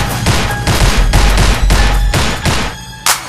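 Gunfire sound effect in a French rap track, a rapid string of loud, punchy shots in steady rhythm, ending in a final sharp blast after a brief pause, with no voice over it.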